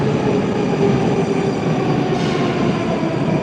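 A Moscow metro train runs steadily, filling the space with a loud, continuous rumble and rattle. There is no break in the noise and nobody speaks.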